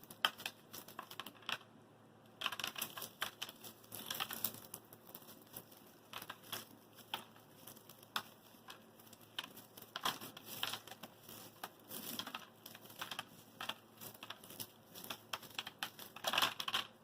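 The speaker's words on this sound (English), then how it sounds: "Using your fingers, briskly rub the seeds to detach them from the flower head." Fingers briskly rub sunflower seeds loose from a dried flower head, producing dry, crackling rustles in irregular bursts with short pauses, close up and fairly quiet.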